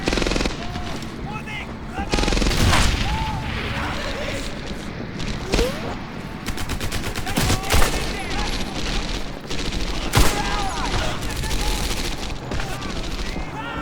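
Grenade blast and rattling gunfire from a WWII town battle in the Medal of Honor Airborne shooter game, with dense bursts of automatic fire and sharp bangs running throughout under scattered voices.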